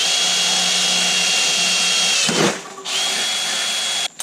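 A power drill drilling a pilot hole in metal runs continuously and loud at close range, dipping briefly partway through before spinning back up, then stopping at the end.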